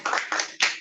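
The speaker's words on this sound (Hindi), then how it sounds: "please clap for her." A few quick hand claps during a virtual Miss India and Mrs India beauty pageant crowning ceremony, close and sparse, forming a short uneven burst of about four claps.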